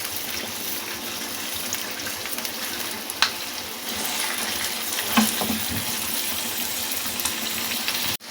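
Chicken karahi fries over a high flame in a dhaba-style wok, giving a loud, continuous sizzle and hiss with occasional stirring clanks, with no talking.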